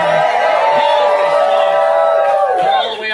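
A crowd of about 200 people cheering outdoors at night in a dark field at an RV gathering, a loud, sustained roar of whoops and shouts that holds steady and then eases off slightly at the end.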